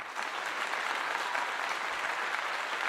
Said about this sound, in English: We must give you a clap